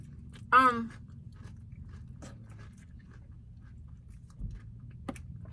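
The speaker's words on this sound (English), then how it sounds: "Like, chew it up and then let it sit in your teeth for a minute." Close, soft chewing of a McDonald's Peanut Butter Crunch McFlurry, with faint mouth clicks and a brief hummed 'mm' near the start over a quiet room background.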